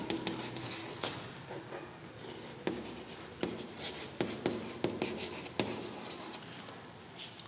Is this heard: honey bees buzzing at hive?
no